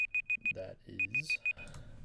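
A timer alarm in the video game Minecraft Hypixel Skyblock, heard as a clear run of four sharp electronic beeps, a pause filled by someone speaking, then four more beeps.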